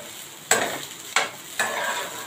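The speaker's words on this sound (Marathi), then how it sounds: "मीडियम गॅसवर यांना चांगलं मिक्स करून घ्यायचं आहे" Vegetables and sauces for Chinese bhel are tossed and stirred in a pan over a medium gas flame, with three distinct scraping, sizzling strokes up close and no talking.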